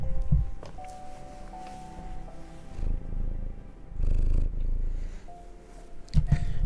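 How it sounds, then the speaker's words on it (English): A cat purrs close by during a game stream, a soft rhythmic low rumble rising and falling in waves alongside faint background music. "My cat is also here."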